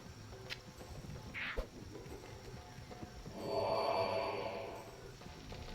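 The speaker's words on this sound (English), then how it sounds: "blow my nose." A person blows their nose once, a close, breathy burst of about a second that swells and fades against a quiet room background.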